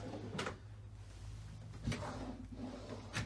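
Kitchen drawers in a Pilote G740 FC camper van slide open and shut three times, brief quiet rattling knocks spread over a few seconds in a calm interior.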